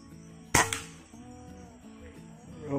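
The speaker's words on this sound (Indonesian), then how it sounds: "Tembakan ketiga." A single sharp air rifle shot from a Killua 160cc, a 2021 model, fired close by. The crack comes with a brief rattling echo and is followed by a faint steady hum.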